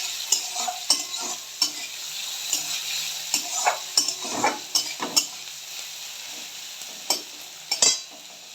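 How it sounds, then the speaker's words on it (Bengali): Onions frying over a high gas flame in a pan, with a continuous sizzle and repeated scraping, clattering strokes of a stirring utensil, close and fairly loud. "তারপরে আমি একটু পেঁয়াজটা ভেজে নেবো আগে। পেঁয়াজটা দিয়েছি, গ্যাসের ফ্লেমটা এখন একটু জোরেই আছে।"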